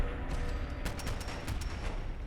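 Rapid bursts of BAR M1918 rifle fire in Fallout 4, a cluster of sharp shots over steady background game noise, with no talking.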